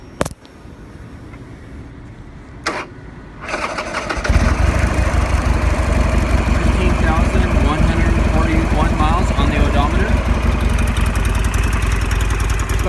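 2009 Buell XB12SS Lightning streetfighter with a 1200cc fuel-injected V-twin starts and settles into a loud, close, throbbing idle, preceded by a couple of short clicks and quieter background.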